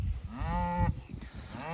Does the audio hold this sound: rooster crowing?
no